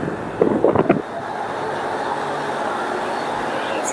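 Steady wind blows at sea aboard a boat, a constant rushing roar with a brief burst of clatter near the start, and no voices.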